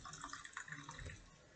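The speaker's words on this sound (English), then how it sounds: "Pour myself a cup of coffee." Hot coffee poured into a cup, a faint, close liquid trickle with small splashes that tapers off toward the end, with no talk.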